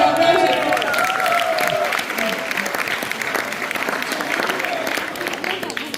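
Sustained applause from a school open-stage audience, steady dense clapping throughout, with some cheering mixed in.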